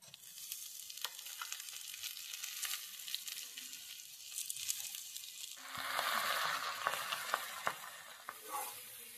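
Soaked, washed rice frying with onion and garlic in a pot for Bengali masoor dal khichuri, giving a faint, continuous close sizzle with scattered stirring clicks that swells louder midway.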